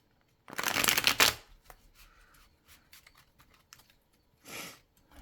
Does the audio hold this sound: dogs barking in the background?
no